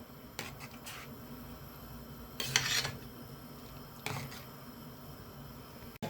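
A spoon scrapes and stirs a pot of okra tamarind curry with powdered asafoetida, making a few separate soft clinking, rubbing strokes against a quiet background.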